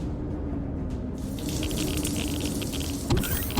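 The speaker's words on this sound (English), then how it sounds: "It's really smart placing the shower on top of the fuel tank." Water pours steadily from a shower in the game Empyrion Galactic Survival, a constant hissing splash that brightens after the first second and runs unbroken, with a small clunk near the end.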